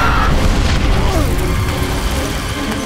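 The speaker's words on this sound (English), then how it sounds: "God, explosions everywhere" Explosions in the video game Darksiders form a dense, continuous roar of booms and crashing debris, loud and sustained with no clear pauses.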